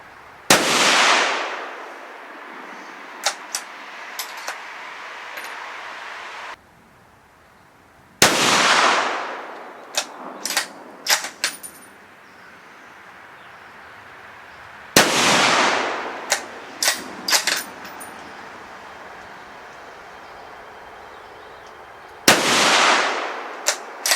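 Ruger American .308 bolt-action rifle firing outdoors at a rustic log cabin deer hunting camp: four loud, sharp shots spaced several seconds apart, each with a long rolling echo and small clicks of the bolt between them.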